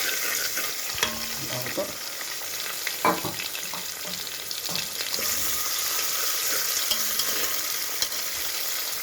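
Food fries in ghee in a pan, a constant close sizzle broken by scraping stirs and a few louder clinks, with someone speaking briefly.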